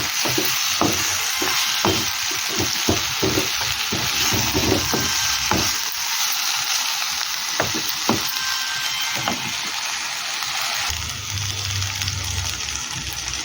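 Brinjal pieces cooking in oil in a pan, stirred with a utensil that knocks and scrapes in an uneven run of clacks over steady close sizzling; the knocking stops near the end and the frying hiss continues.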